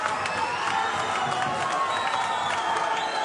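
Boxing crowd cheering for fighter Jeff Magagane, a large traveling fan base filling the arena with steady, dense roar and scattered whoops throughout.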